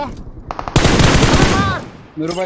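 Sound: gunfire in a video game

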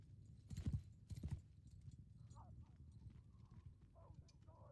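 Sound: horse hooves clip-clop in video game Bannerlord

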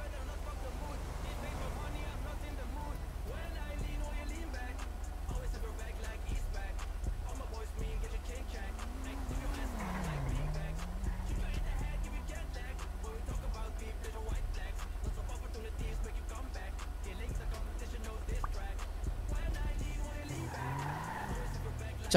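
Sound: car driving and skidding in video game GTA 5

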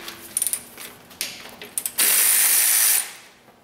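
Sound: ratchet loosening alternator tensioner bolt on Toyota Camry

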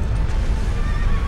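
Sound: horse neighing in the video game Shadow of the Colossus

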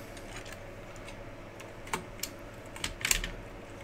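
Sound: plastic keycaps being pried off Commodore Amiga 500 keyboard

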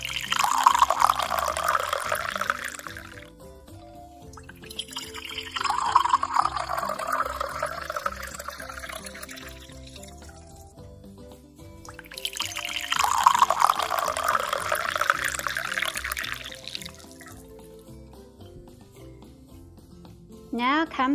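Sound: water filling cups halfway

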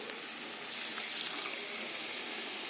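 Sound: pouring leftover mixer-rinse water into pan

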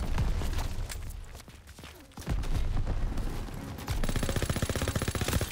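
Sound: gunfire in Call of Duty WW2 video game

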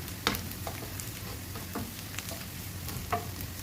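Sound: onions sautéing in oil with mustard seeds and curry leaves

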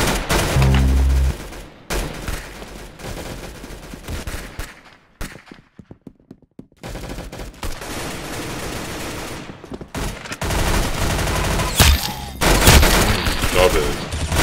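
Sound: gunshots in the video game Arsenal

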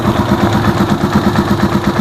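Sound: Rusi Chariot 175 motorcycle engine idling

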